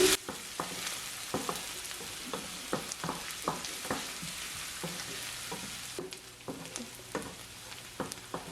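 Green chilies and curry leaves sautéing in a pan for savory boli, a steady sizzle broken by repeated sharp spatula scrapes and taps at an uneven rhythm, close and fairly quiet, with no voices.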